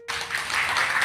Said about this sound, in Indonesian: Jadi kita kasih tepuk tangan buat Dennis.